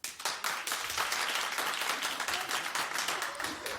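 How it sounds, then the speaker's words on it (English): A talk show studio audience claps loudly and continuously for a few seconds, dense rapid applause filling the room without pause. "First, clap if you think Casper will be okay."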